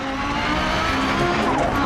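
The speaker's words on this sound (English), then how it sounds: "as soon as the car gets on boost it just rockets out of the corner" A rally car in the DiRT Rally video game climbs Pikes Peak on turbo boost, its engine roaring loud and steady as it accelerates out of a corner, with faint tyre noise underneath.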